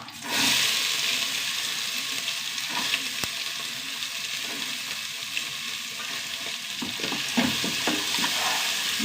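Small onions and curry leaves, with dried chillies already in the oil, fry in a pan with a steady loud sizzle, scraped and stirred now and then, no voices.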